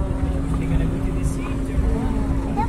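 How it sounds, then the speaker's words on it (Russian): A motorboat speeding past on the sea at Tallinn, Estonia drones steadily nearby with a low rumble and water noise, while people talk faintly in the background. "Вон какой катер"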